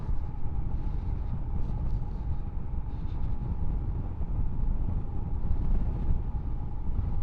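A 2021 Royal Enfield Himalayan motorcycle engine holds a steady drone in third gear at just over 3,000 RPM, with a constant hum and wind rush buffeting the microphone at an even, moderate level throughout.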